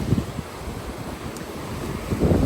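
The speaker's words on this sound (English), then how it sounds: "Beach, we have arrived." Wind buffets the microphone as waves wash onto a rocky seashore, a steady roar of surf with stronger gusts at the start and end, no voices.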